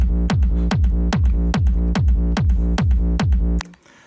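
A big room trance kick is played in FL Studio with a continuous bassline beneath it, forming a loud, bouncy pattern of about nine regular thumps that stops abruptly near the end.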